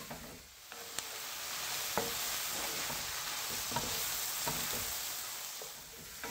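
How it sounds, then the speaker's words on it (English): Honey mushrooms and Vidalia onion sizzle steadily in a hot pan, with a constant frying hiss broken by occasional scrapes and clicks of stirring, heard close and alone. "I'm just going to stir this around, start browning them, cook them down just a little bit until they just start to soften"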